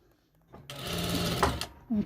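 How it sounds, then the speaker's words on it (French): A sewing machine runs in a short burst while topstitching an abaya, a close whirring stitch rattle lasting about a second, with brief speech-like sounds around it. "On va faire une surpiqûre."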